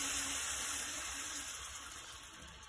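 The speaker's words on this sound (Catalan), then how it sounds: "el que farem és tirar aigua." Water pours into a cooking pot in a restaurant kitchen as eel is prepared: a steady broadband gush and splash that holds close and fairly loud, then eases off slightly toward the end.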